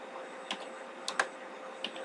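A few sparse keystrokes on a computer keyboard entering a Linux command, quiet clicks spaced irregularly over a low room hum.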